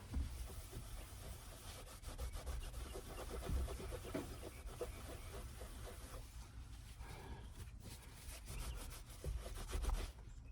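Rhythmic rubbing and swiping of a microfiber cloth dampened with 90% rubbing alcohol across a steering wheel surface on a Toyota 4Runner or Tacoma, close up with a steady back-and-forth texture and no talking.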